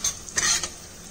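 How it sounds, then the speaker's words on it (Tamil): Crushed black peppercorns fry lightly in a pan for millet pongal. A brief, close sizzle is heard with a spoon stirring and scraping. "இதை நல்லா வந்து நம்ம லைட்டாக ஃப்ரை பண்ணிக்கலாம்."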